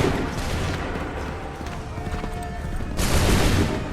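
Musket volley gunfire in Assassin's Creed 3 rolls out as a scattered crackle of shots over a busy battlefield din, with horse hooves and a heavy close blast near the end.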